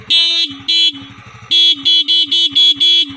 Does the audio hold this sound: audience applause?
no